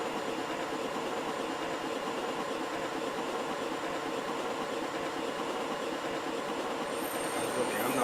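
Subway train running steadily through a rail yard in the OpenBVE simulator, a continuous loud rumble of wheels and motors with no letup, a faint high squeal rising near the end.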